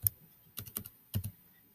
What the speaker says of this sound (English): So I simply start typing.